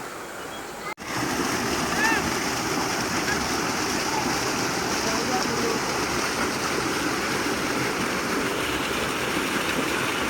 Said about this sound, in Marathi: वॉटरफॉल आहे गाइस आणि इथून असं पाणी खाली जात आहे